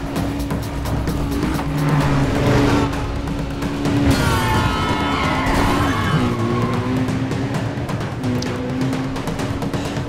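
A race car's engine revs and accelerates steadily in Need for Speed Undercover, with tire skids and whooshing passes over a continuous motor drone.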